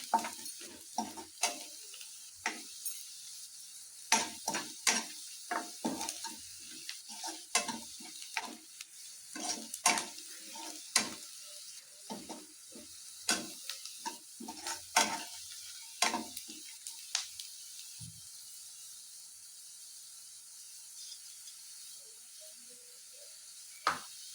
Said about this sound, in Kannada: ಸ್ವಲ್ಪ ಈರುಳ್ಳಿ ಎಲ್ಲ ಚೆನ್ನಾಗಿ ಫ್ರೈ ಆಗಲಿ ಅದರಲ್ಲಿ ಚೆನ್ನಾಗಿ ಫ್ರೈ ಮಾಡ್ಕೊಳ್ಳಿ